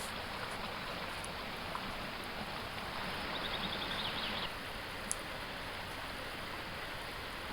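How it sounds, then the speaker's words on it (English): A small woodland waterfall behind a bathhouse in the Lake District, heard as a steady broadband rush of falling water that stays close and constant throughout, with a few faint clicks over the top. "There's a little waterfall, look."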